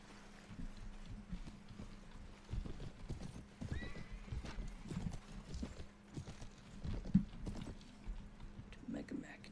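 Horse archers gallop across a Mount & Blade battlefield, the hooves clopping irregularly at moderate distance with an occasional whinny, while someone talks over it.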